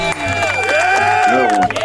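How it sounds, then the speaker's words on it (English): An audience at a talk show taping cheers and whoops in a dense, lively burst of voices that runs for a couple of seconds and then falls away. "Round of applause for myself."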